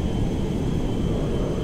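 Large jet airplane in the GTA 5 video game, a steady loud engine roar with a broad rumbling low end and a faint high whine, continuous and close without talk.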